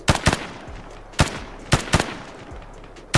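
Bursts of machine gun fire in the Arma 3 video game during a PMC squad firefight on a hillside: several sharp, loud volleys spaced a second or so apart, with short echoing tails between them.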